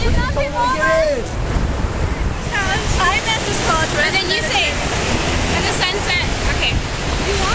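Mediterranean Sea surf rolls steadily at sunset along the shore at Caesarea, with wind buffeting the microphone throughout and voices talking over the constant wash.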